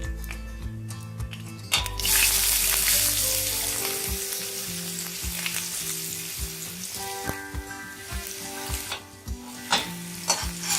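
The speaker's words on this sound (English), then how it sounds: "once cumin seeds splutter, we will be adding the chopped ginger" Cumin seeds splutter and sizzle in hot oil for a steady, close crackle, with a few louder bursts of popping and stirring scrapes, no voices over it.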